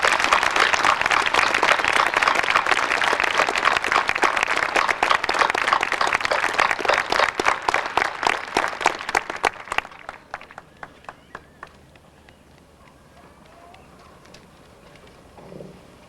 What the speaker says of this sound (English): Please join me in applauding the class of 1941.